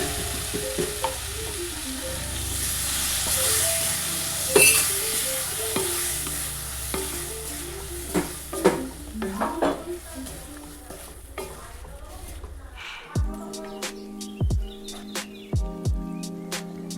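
Spice paste frying in a pan while being stirred for a pointed gourd dish, a continuous sizzle with frequent scraping stirs and clinks, close, with a voice speaking at times and a brief bird chirp.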